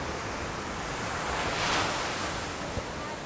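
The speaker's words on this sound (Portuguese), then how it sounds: "Umas boas ondas, maré mudando nesse exato momento." Ocean surf breaks steadily on Praia Brava beach on a sunny day as the tide turns, a loud continuous wash of waves with wind noise against the microphone.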